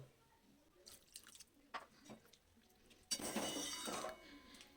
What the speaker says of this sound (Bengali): আর একটু দেব জল